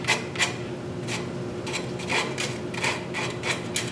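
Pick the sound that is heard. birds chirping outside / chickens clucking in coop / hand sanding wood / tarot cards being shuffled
hand sanding wood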